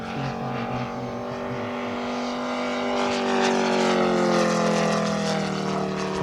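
Moki 250 radial engine on a Carf AT-6 Harvard RC airplane at a flying demonstration, droning steadily with a rich harmonic hum that swells slightly as it runs, with no talking.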